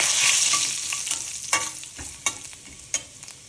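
Spices sizzle in hot oil in a pan while being stirred, a bright continuous frying hiss close by with three or four distinct scraping clicks of a spoon toward the end, no voices.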